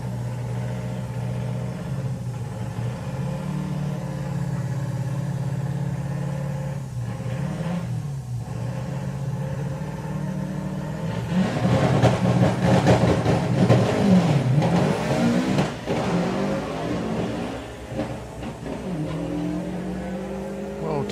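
Volkswagen drag racing cars at Santa Pod give a steady loud engine drone that swells into harsher revving and tyre noise midway, with gear changes and engine pitch rising and falling, then easing back toward a steady roar.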